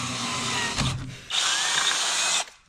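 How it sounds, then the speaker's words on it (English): A power drill bores holes in a custom grill for a Kawasaki KRX, two close, loud bursts of whining drilling separated by a short gap, ending abruptly. "holes marked, so we're gonna go ahead and drill them out."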